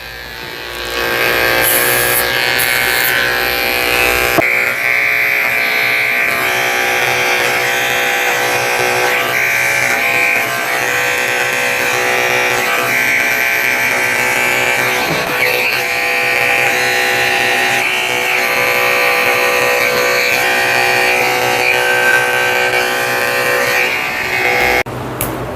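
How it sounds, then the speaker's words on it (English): Electric clippers with a 30 blade buzz steadily as they shave a Shih Tzu-poodle's feet. The drone is close and continuous, with faint changes in pitch as the blade moves. No one talks over it. "So he's getting his feet shaved like a poodle. I'm using a 30 blade."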